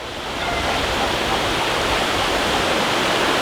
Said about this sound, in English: Here we are, we're down at the river now, Sulby River.